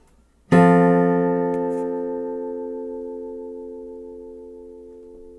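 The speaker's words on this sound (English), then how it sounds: "Play and listen to another spread triad." A spread triad chord is struck once for ear training, then rings alone with clear sustained tones that slowly fade over about five seconds in a quiet room.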